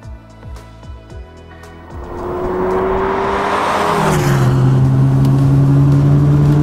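Veilside Mazda FD RX-7 replica idling with a few blips, then pulling away and accelerating, its rotary engine rising into a loud steady drone heard from inside the car.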